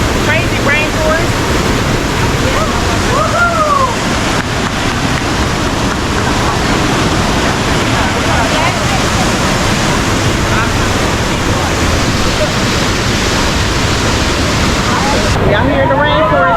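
Waterfall in El Yunque rainforest, Puerto Rico, a loud steady roar of rushing water that fills the whole stretch without pause, heard close with wind buffeting the microphone.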